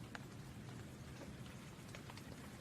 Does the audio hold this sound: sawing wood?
no